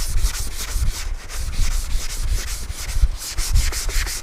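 Sandpaper scrubbing sheet metal on a 2017 Chevrolet Sonic quarter panel repair, a steady rhythmic back-and-forth rasp repeating about twice per second, close and loud with no talk.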